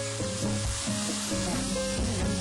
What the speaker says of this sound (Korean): 찹스테이크에 사용할 쇠고기 등심은 팬을 달군 뒤 기름을 조금만 붓고 굽는 것도 포인트